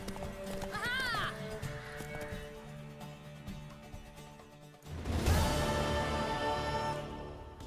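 A mare in the video game The Witcher 3: Wild Hunt whinnies with a rising, quavering neigh, followed by steady clip-clopping hooves and a burst of galloping, with a voice speaking underneath.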